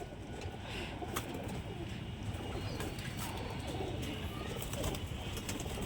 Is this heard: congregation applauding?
no